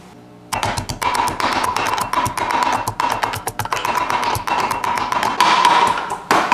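Garlic cloves smashed and tossed into a pan while cooking lo mein, with rapid close tapping and knocking over a steady background hum, a few heavier thuds scattered throughout.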